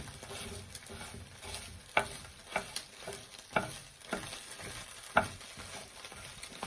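Fried rice being stirred and broken up in a hot pan, steady soft sizzling with a series of sharp scrape and tap accents from the utensil, fairly quiet and alone.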